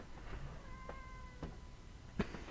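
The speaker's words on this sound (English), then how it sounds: "Sorry, that was my lovable yet incredibly loud cat" Danny, a loud domestic cat, lets out a drawn-out meow indoors, close and clear, with a few soft bumps and a sharp knock near the end.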